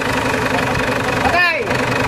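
A Ford Everest diesel engine, suspected of leaking injectors, cranks and idles with a steady mid-pitched rumble, a brief rising whir of the starter coming through partway, while someone talks over it.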